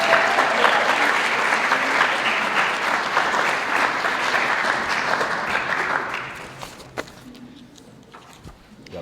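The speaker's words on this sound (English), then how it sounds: "Let's give her a round of applause, Erdania." An audience at an Indigenous student graduation ceremony gives a graduate a loud, sustained round of applause that fades out near the end, leaving a few isolated claps and faint room noise.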